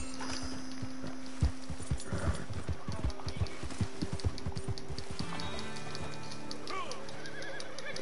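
Video game horse hooves clop in a quick uneven rhythm, then a loud whinny rings out over a steady background hum, with game sound effects layered in toward the end.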